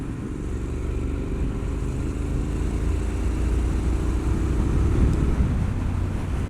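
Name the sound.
Triumph Street Scrambler 900 motorcycle riding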